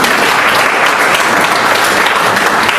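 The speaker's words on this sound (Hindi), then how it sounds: "एक बार जोरदार ताली बजा दीजिए रमेश पुहानी जी।" Sustained, loud applause from a crowd at a Vestige business training event, a dense, steady wash of clapping with no break across the whole stretch.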